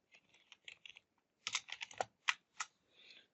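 Keys on a computer keyboard are typed in short, quiet bursts of clicks with brief pauses between them, close up and alone with no talk.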